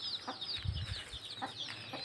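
A mother hen with her sixteen chicks: soft low clucks from the hen come in short bursts beneath continuous high, shrill peeping from the chicks, all fairly faint.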